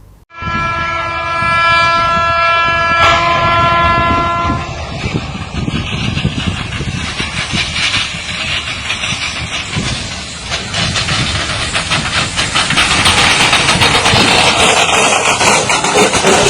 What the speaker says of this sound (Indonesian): Sebuah mobil bak terbuka tertabrak kereta api Batara Kresna di perlintasan sebidang tanpa pintu palang di Kabupaten Sukoharjo, Jawa Tengah.